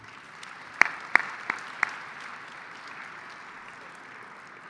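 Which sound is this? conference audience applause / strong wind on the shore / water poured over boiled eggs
conference audience applause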